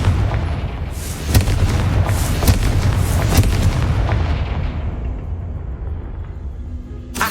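A Confringo blasting-spell explosion from the video game Hogwarts Legacy: a series of loud booming blasts with sharp cracks in the first seconds, trailing off into a fading rumble, then one final pop at the end.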